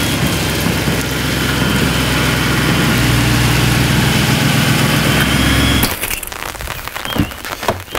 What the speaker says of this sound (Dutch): 4 liter TFSI V8 benzinemotor biturbo